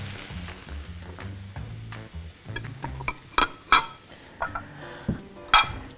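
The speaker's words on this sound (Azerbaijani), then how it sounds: "Tərəvəzlər də artıq pişir." Vegetables sizzle and fry in a pan while cooking a cabbage and zucchini ragout, with a steady low hiss broken by sharp clinks and scrapes of a utensil against the pan, growing louder and busier toward the end.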